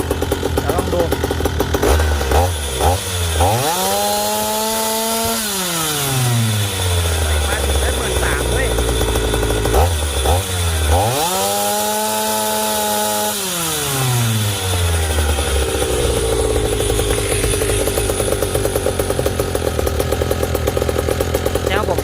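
A gasoline stand-up scooter's small carbureted engine buzzes nearby, surging twice to a high, sustained whine before dropping back to a rattly idle, with a voice talking over it.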